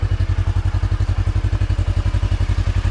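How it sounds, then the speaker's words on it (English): Exhaust of a 2023 Kawasaki Teryx KRX 1000 Trail edition side-by-side while driving, a loud, close, rapid pulsing engine note with steady rhythmic thumps and mechanical clatter, no talk. "Exhaust, a little loud."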